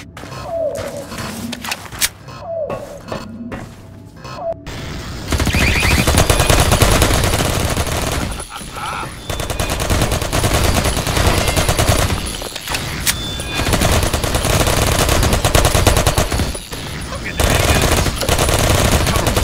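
Turret gunfire in Half-Life 2 Episode Two, a long continuous roar of automatic fire that starts after a few quieter seconds of scattered sounds and stays loud and dense throughout, with a voice speaking faintly underneath.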